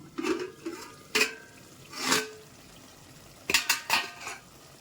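A spoon scrapes and clanks against a metal pot while cooking rice is stirred, alongside chicken biryani, in a few separate bursts of clatter with quiet gaps between them and no talking.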